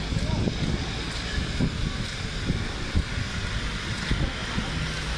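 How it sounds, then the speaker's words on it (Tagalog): Strong typhoon wind on a Baguio City street, gusty buffeting against the microphone with low rumbling bursts that rise and fall continuously. "Kasi nga malakas yung hangin."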